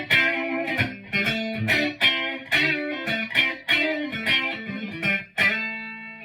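Squier Bullet Strat electric guitar on the middle pickup through a clean amp with no reverb, tone and volume knobs full: a series of strummed chords with sharp attacks and ringing sustain, played close and loud with no talking.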